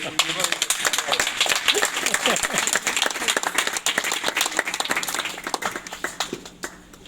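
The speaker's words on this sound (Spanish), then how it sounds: "Un fuerte aplauso" An audience at a civic centre storytelling show applauds loudly, with crisp individual claps in steady, dense succession that gradually thin out toward the end, with a few voices underneath.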